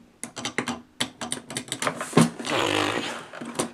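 Keys clatter on a Sharp Font Writer FW-700 word processor from around 1995, a quick run of crisp close taps followed by a brief whirring mechanical print-carriage sound, then more scattered keystrokes.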